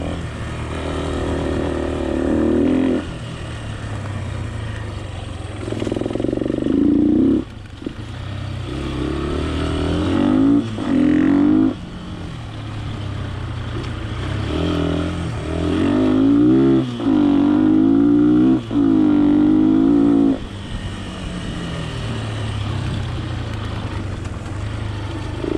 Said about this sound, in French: ce qu'on peut entendre là, c'est que j'ai du cliquetis